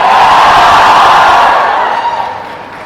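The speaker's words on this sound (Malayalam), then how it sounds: "ഗംഭീര കൈയടി കൊച്ചിയുടെ, കേരളത്തിന്റെ സാർ" A large crowd at a Kochi, Kerala film pre-release event roars with loud sustained applause and cheering that fills the space, then gradually fades.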